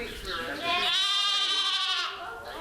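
Sheep bleat on a farm during lambing season, one long, loud, wavering cry lasting over a second and standing out close to the listener, with softer livestock sounds before and after it.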